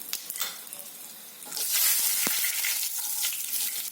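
Cumin seeds and asafoetida in hot oil, a bright crackling sizzle that swells halfway through and carries on steadily, with faint stirring.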